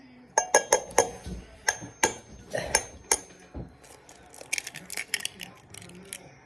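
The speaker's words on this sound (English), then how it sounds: "Beautiful egg crack by Nick." An egg cracked into a bowl for a microwave sugar cookie, with a run of sharp clinks and taps of shell and utensils against the dish, close and bright, followed by lighter scraping and rattling.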